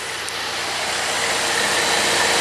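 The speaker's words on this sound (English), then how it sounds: "It's idling good." A Pontiac G8 V6 fitted with a custom throttle body spacer idles steadily, a broad, even engine hum that holds at a constant level throughout with no talk over it.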